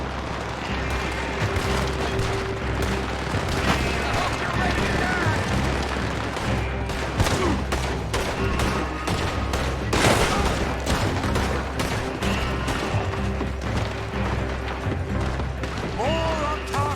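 Heavy gunfire in Red Dead Redemption 2 during a shootout: dense, rapid volleys of rifle and pistol shots with booming impacts, loud and continuous throughout, with voices faintly mixed in.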